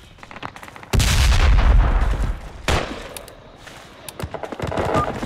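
Automatic gunfire in the Project Reality combat game as a squad shoots at a compound, with a loud sustained burst, another sharp volley, then scattered distant shots and rattling fire.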